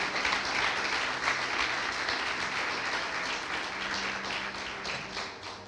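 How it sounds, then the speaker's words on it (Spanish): Steady applause from a church congregation, continuous clapping throughout at moderate volume, with no pauses. "le damos un aplauso a los papás"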